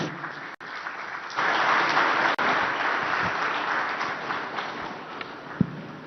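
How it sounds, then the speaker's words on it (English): Steady applause from a large crowd at a public government event in Vizag, with a dense wash of clapping that swells after a moment and holds for several seconds, nearby and fairly loud. "this deserves a louder round of applause from everyone here, please."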